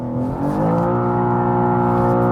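A BMW M2 engine accelerates hard in second gear on a race track, its pitch climbing steadily into a loud, sustained close-up roar with no talk over it.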